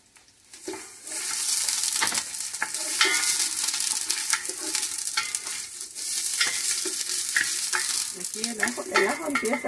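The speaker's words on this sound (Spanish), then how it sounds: "Vamos a empezar a poner nuestro ajo, la cebolla, a que se sofrían por un momento" Garlic and onion sizzle steadily in a pot over high heat, a continuous bright frying hiss with occasional stirring scrapes and clinks, close and fairly loud throughout, with no talking.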